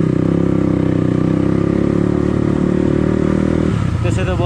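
A motorcycle engine running during a Sunday ride toward Chunikhel, a loud steady throbbing drone close up, with wind buffeting and a shift in tone near the end.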